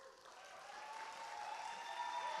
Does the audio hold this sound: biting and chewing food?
no